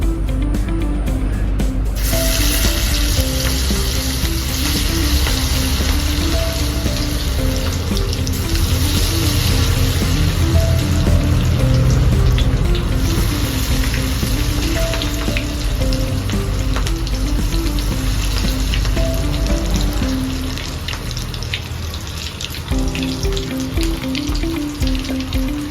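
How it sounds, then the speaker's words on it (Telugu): Marinated chicken pakora pieces deep-frying in hot oil on a stove, a loud, dense, continuous sizzle and crackle heard up close throughout. "మనకు పొయ్యి మీద ఆయిల్ అనేది మరుగుతుంది."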